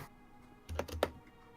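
Soft, close clicks of a computer keyboard as someone types during an online tabletop role-playing game session: a short quick cluster of keystrokes with no talking, fading back into quiet.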